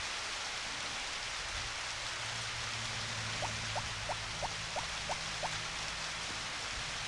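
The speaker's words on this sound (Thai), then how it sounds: "ฝนตกวันที่สองแล้ว" Steady rain in the PS1 game Harvest Moon: Back to Nature hisses evenly throughout, with a brief run of seven quick, evenly spaced blips in the middle.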